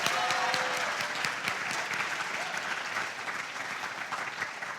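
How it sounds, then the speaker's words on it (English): An audience at a high school poetry recitation competition claps for the finalists, a dense, sustained round of applause that starts strong and gradually eases off without fully stopping. "Let's give them a huge round of applause."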